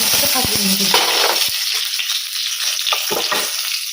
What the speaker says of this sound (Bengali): তেলটার মধ্যে আমি ফোড়নে দেবো তেজপাতা, লং, একটু দারচিনি আর কটা এলাচ